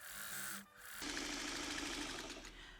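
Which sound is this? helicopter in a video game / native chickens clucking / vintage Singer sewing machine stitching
vintage Singer sewing machine stitching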